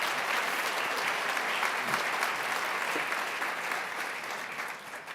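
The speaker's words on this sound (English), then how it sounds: "Let's give this courageous 10-year-old a round of applause." Audience at a healthcare research summit welcome session gives a sustained round of applause, a thick even roar of clapping that tapers slightly at the end, with no voices over it.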